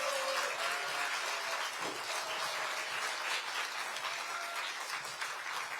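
Applause from an audience at a book concert greets a guest, a dense, steady clapping that fills the room at moderate level and holds evenly throughout.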